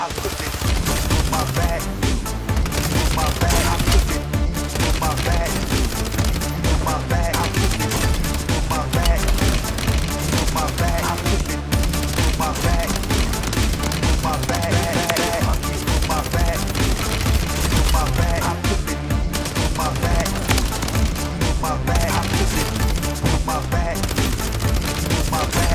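Rapid automatic gunfire from an STG44 and a Static-HV in Call of Duty Warzone, dense bursts running nonstop under loud game sounds and music throughout.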